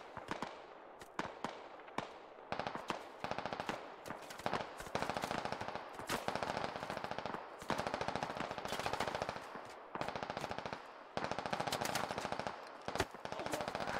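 Rapid automatic gunfire in the Squad military shooter comes in long sustained bursts, dense and continuous with short gaps, loud and close with no talking.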